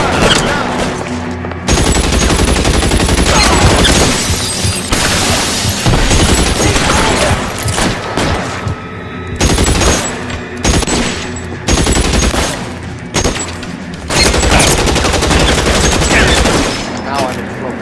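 Sustained heavy gunfire in the crime video game L.A. Noire, loud bursts of rapid automatic shots and booming blasts packed together with short gaps between volleys, close and dense throughout.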